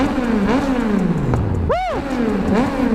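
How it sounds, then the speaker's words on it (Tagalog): A big-bike motorcycle, an NK400 or Tracer 900, revs loudly up close in repeated rising and falling throttle blips on a street, one sharp high rev swelling and dropping in the middle. "Rev bomb."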